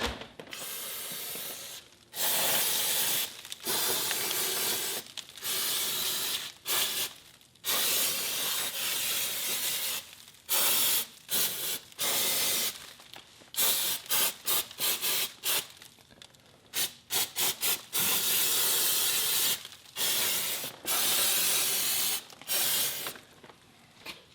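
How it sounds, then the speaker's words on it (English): Brake cleaner aerosol sprayed onto the suspension parts of a 2002 Subaru WRX gives repeated loud hissing bursts of varying length, separated by short pauses, close to the can with no talk. "So I'm gonna use some brake cleaner, and I'm gonna clean this up a little bit"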